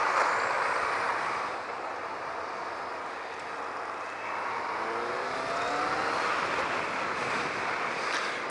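A heavy tipper truck rumbles past at close range, its roar swelling and fading amid steady traffic noise.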